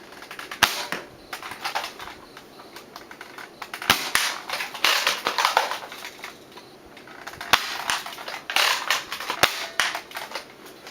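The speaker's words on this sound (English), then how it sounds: "First I'll be shooting my slug darts," Homemade Quadshot dart blaster firing slug darts from about 20 feet away, giving sharp, isolated pops in uneven bursts with short gaps between shots.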